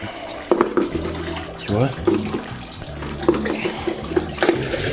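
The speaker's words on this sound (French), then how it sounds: "j'ai mis une pompe comme ça, classique, pompe immergée." Submersible pump running inside a rainwater collection tank, giving soft gurgling, splashing water with brief pulses, close by, while someone speaks over it.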